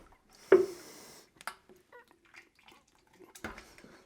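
Paint pours from one container into another in one brief liquid rush, followed by light clinks and small handling sounds before a second short pour.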